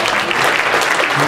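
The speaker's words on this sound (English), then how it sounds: "I just want to give everybody a round of applause for being here" Audience at a PAX East 2013 gaming panel breaks into steady applause, a thick continuous patter of many hands at even loudness throughout.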